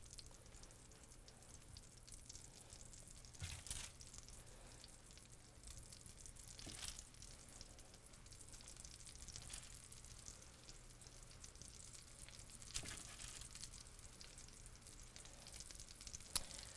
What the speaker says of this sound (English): So we're going to start browning these meatballs.